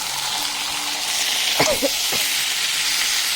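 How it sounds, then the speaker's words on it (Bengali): Meat frying with spices in an uncovered pan over raised gas heat, a steady loud sizzle with brief stirring scrapes in the middle, heard alone. "এইবার আমি ভালো করে কিছুক্ষণ ধরে কষতে নেব"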